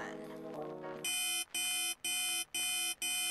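Alarm clock in the video game Dominique Pamplemousse starts ringing after a second of other sound, bright pulsing buzzes repeating about twice a second, fairly faint.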